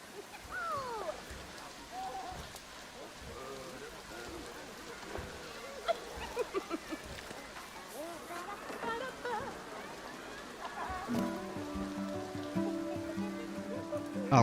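Rain falls in the theme-park video game Planet Coaster 2 as a soft, steady patter mixed with other light game sounds, and a tonal melody joins near the end.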